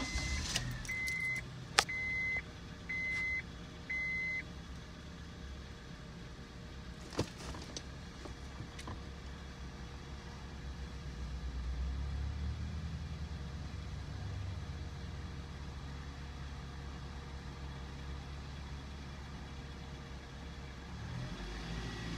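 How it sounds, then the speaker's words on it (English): A car engine cranks and starts after a few electronic chimes and some jangling keys, then settles into a quiet, steady idle inside the vehicle. "Okay, so I'm going to start the car."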